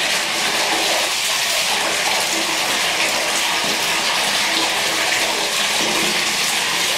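Hot spring water gushes up from beneath a rock ledge and pours into bathing pools at Valparaíso, Zacatecas, making a steady, loud, unbroken rushing hiss with no voices.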